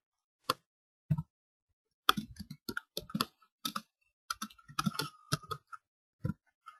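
Scattered key presses on a computer keyboard while someone enters Java code, in irregular bursts of quick clicks with pauses between them, close and quiet, with no talking.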